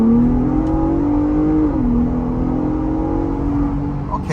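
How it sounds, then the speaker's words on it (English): A 2023 Ford Bronco Raptor pulls away from a standstill in two-wheel drive at about half throttle, its engine droning loudly and rising steadily in pitch as it accelerates, heard from inside the cabin. "Looks like a good opportunity to try an acceleration off the line."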